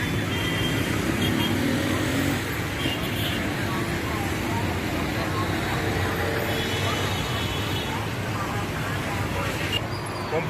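Road traffic flows through Goma city, a continuous wash of cars and motorbikes passing at middle distance, with people talking over the steady street noise.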